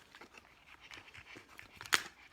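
A dog pants softly in a quick, faint rhythm, nearby but low in level, with one brief sharp crunch or snap near the end.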